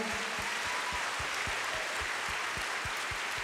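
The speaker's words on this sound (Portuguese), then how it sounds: "Vamos dar um lindo aplauso ao Senhor." Applause fills a church service for several seconds, a dense steady clapping from a congregation with no talk over it.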